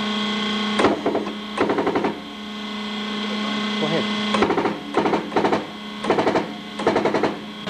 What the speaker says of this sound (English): The noise you heard was just the pressure of the dies on the steel.